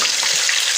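Lahori-style fish fries in hot oil over full heat, a loud, close, steady crackling sizzle for under a second.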